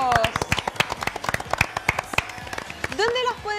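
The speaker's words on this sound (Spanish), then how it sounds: "Un aplauso para todos estos lindos modelos de zapatos." A quick run of scattered hand claps, light and close, tapering off as a voice begins speaking near the end.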